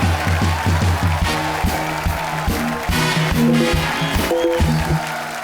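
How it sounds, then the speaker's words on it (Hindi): A studio audience at a comedy talk show applauds and cheers continuously, a dense wash of clapping under music with a few brief voices mixed in. "तालियां बजती रहनी चाहिए।"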